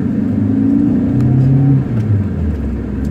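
A 1990 Toyota Corolla 1.6SE engine runs with a steady, loud, close low rumble and whir, its pitch easing slightly, with no talking.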